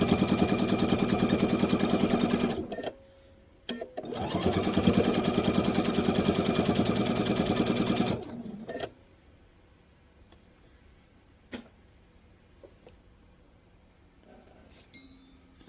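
A sewing machine runs a quarter-inch seam through table runner fabric in two steady bursts of motor hum, then stops, leaving near silence with a couple of faint clicks.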